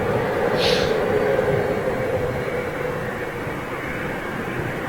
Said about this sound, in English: Boeing 747 Virgin, off to Xiamen, China for maintenance